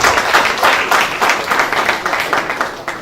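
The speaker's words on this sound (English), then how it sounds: "Please give yourselves a round of applause." A room full of people at an official courtesy visit bursts into a sustained round of applause, dense clapping filling the whole stretch at steady loudness with no speech over it.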